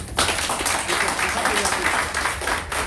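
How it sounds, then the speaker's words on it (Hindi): Audience applause for Agrawal sahab at a motivational talk, a dense, steady wash of clapping from a crowd that swells and holds for about three seconds, with some voices mixed in. "एक ताली होनी चाहिए अग्रवाल साहब के लिए"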